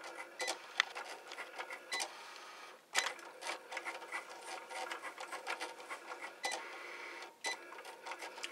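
A Cricut cutting machine slices star shapes from printer paper for deco foil, giving off quiet rapid clicking and whirring motor passes with short pauses between strokes, close by.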